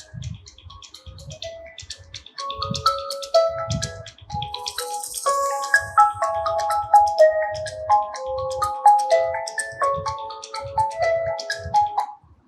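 A Realme 7 Pro phone's dual speakers play a ringtone, a bright, fairly loud melodic run of plucked, chime-like notes with a light water-drop texture that fills most of the twelve seconds and ends abruptly.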